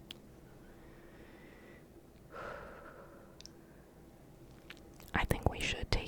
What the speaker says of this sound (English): Just taking some deep breaths here.